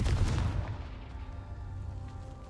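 Confringo blasting spell from Hogwarts Legacy: a loud booming burst at the start that decays into a lingering low rumble with faint tonal ringing.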